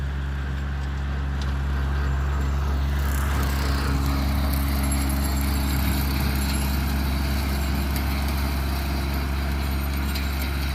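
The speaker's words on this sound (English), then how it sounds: "More mowing on the tractor." Tractor mowing with a bush hog, a steady, loud low engine drone with a constant rumble running unbroken throughout.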